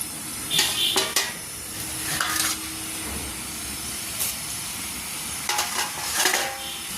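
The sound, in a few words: murukulu (rice flour snack) frying in hot oil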